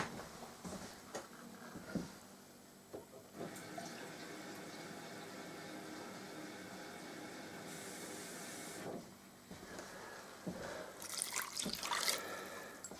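Water pours and splashes into a cooking pot on a kitchen counter to boil potatoes for a seaside broth, a steady running stream with a few clanks and short pauses, rising to a brighter splash near the end.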